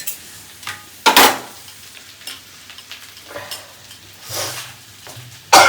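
A spoon scrapes and stirs khichdi rice in a pan on the stove, giving a few sharp clatters and soft sizzling scrapes spread across several seconds, with no talk.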